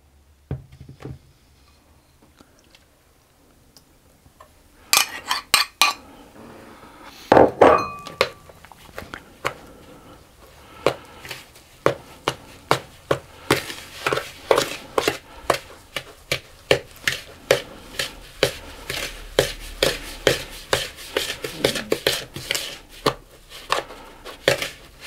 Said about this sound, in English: So then I'm going to stir that into the dry mixture.